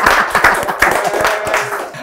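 Brief burst of clapping and cheering from a small group in a podcast studio, with busy overlapping claps filling the whole moment.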